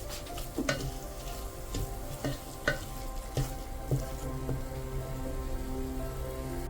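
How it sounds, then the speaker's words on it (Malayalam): Coriander powder and garam masala frying in a pan for Kerala beef rice, a steady low sizzle with a few spoon-stirring knocks against the metal, no voices. "ഒരു 2 സ്പൂൺ മല്ലിപ്പൊടി, ഗരം മസാല ഇവയെല്ലാം ചേർത്ത് നന്നായിട്ട് മൂപ്പിച്ചെടുക്കുക."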